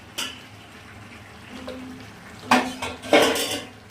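A pot lid is lifted and a vegetable curry is stirred, with a few sharp metallic clanks and scrapes of utensil against pot over a quiet kitchen background.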